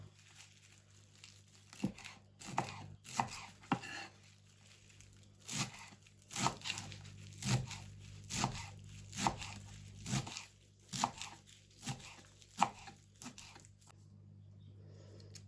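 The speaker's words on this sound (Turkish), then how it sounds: "Maydanozlarımızı doğruyoruz." A knife chops fresh parsley on a board for a green bean pickle, sounding as a series of close, uneven crunchy cuts that grow more regular in the middle, with a low hum underneath.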